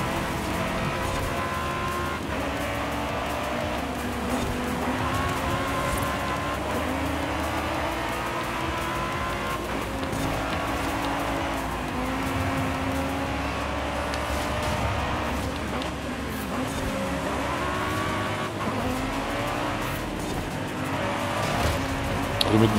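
Fast cars race in Forza Horizon 5, with a continuous, loud engine roar that shifts in pitch and is joined by tire squeal and skidding throughout, with no talking.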